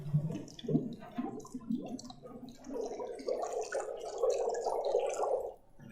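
A litre of water heats over a fire in The Long Dark, bubbling and gurgling in uneven wet pops that build into a denser, steadier simmer, fairly quiet with no talking.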